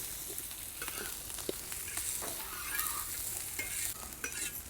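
Sarata (gokhru) frying in oil in a pan, a quiet, even sizzle with light stirring scrapes and small pops throughout, heard close with no talking.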